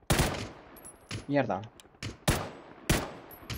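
Gunshots in PUBG crack out as several sharp, loud single reports spaced about a second apart, with a brief spoken exclamation between them.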